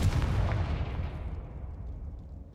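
A Confringo fire spell in a Harry Potter video game detonates as one heavy booming blast, loud up front, then a long rumbling decay that fades over a couple of seconds.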